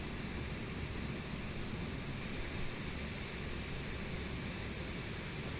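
BAE 146 jet airliner in Microsoft Flight Simulator 2020, a steady broadband engine roar with a constant dense hiss, loud and unbroken throughout with no talking.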